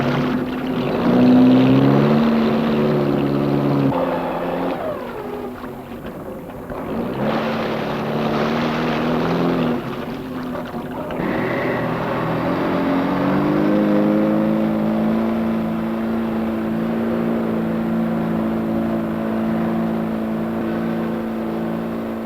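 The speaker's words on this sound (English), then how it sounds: "Start the engine." A boat engine starts and runs in a 1970s treasure-hunting adventure set at a Jamaican reef, a loud low droning motor with shifting pitch that settles into a steady, continuous run close by.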